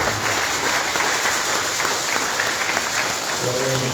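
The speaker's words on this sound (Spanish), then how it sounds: "démosles un aplauso a todos ustedes" Steady applause from the congregation at a memorial mass, a dense, even wash of clapping filling the church, with a voice coming in faintly near the end.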